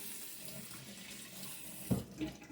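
Water running from a sink tap while rinsing beans, a continuous close splashing stream with a brief louder gush of water near the end.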